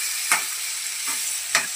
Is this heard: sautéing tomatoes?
yes